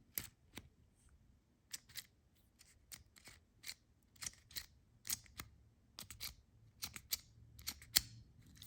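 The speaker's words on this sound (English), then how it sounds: "one of my favorite things to do is just kind of like play with the clicking mechanism" A Lamy Swift pen's retraction mechanism clicks repeatedly in irregular bursts, sharp close-up plastic snaps with quiet pauses between them in an otherwise quiet room.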